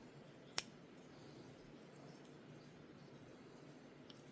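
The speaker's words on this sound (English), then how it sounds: "Yeah, that's dead. So we're going to snip that off." A single sharp snip of scissors cutting a dead root from a Phalaenopsis sturtiana orchid during repotting, one crisp close click early on over a quiet room hush.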